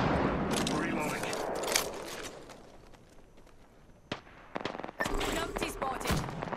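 Rapid automatic gunfire in a video game crackles in loud bursts, easing off midway before a fresh barrage erupts, with game sounds and voices mixed in.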